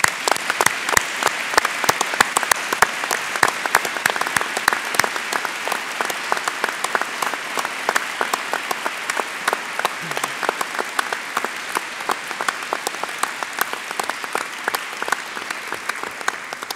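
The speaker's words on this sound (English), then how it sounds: "joining me in a heartfelt round of applause in recognition of your tireless dedication" Sustained applause from an audience at a university presidential event, many hands clapping in a long even wash that stays loud and unbroken for the full stretch.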